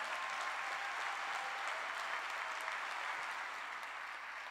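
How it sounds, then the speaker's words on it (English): Tech conference audience at JSConf EU giving a round of applause, a continuous, even roar of many hands clapping at steady volume from start to finish. "So can we please give JSConf a round of applause as well?"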